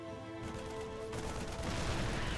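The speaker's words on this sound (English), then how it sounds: "The tank shots do go off" Siege tanks fire in a Terran versus Zerg StarCraft 2 match, producing dense, rumbling bursts of artillery that build into a louder barrage amid continuous battle noise.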